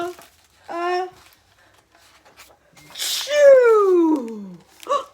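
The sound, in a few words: storyteller imitating a big sneeze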